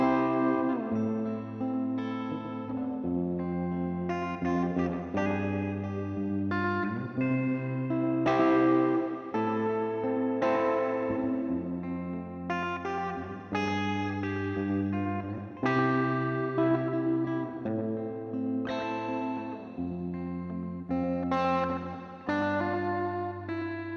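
Electric guitar plays a clean tone through a Hotone Ampero Mini with delay and reverb, with sustained chords and melodic phrases ringing out in a steady, loud, uninterrupted passage without talking.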